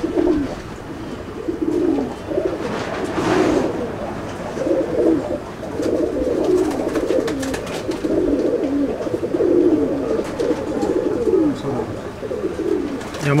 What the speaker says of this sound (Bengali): আরেকটা পায়রা দেখাচ্ছি